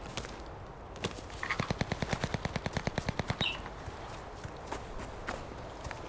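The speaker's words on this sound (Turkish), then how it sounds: "Yerlerden sıkıyorlar ama yerlerden sıkıyorlar." Rapid automatic gunfire in the video game Cuisine Royale, a burst of about twenty evenly spaced shots with scattered single shots and footsteps around it, moderately near.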